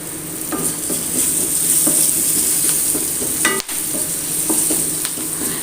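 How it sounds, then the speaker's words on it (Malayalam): Turmeric powder and curry leaves fry in a hot pan for a mackerel masala dish, giving a steady close sizzle with occasional stirring scrapes and utensil clicks throughout, with no talking. "അതിലേക്ക് നമുക്ക് കുറച്ച് മഞ്ഞൾപ്പൊടി ഇട്ട് കൊടുക്കാം കുറച്ച് കറിവേപ്പില ഇട്ട് കൊടുക്കാം"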